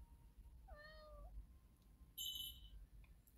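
A kitten meows twice in the video game Stray Cat Doors 3. The soft, clear, synthetic mews are spaced about a second apart over a quiet background.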